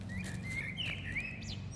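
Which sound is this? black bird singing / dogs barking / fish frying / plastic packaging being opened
black bird singing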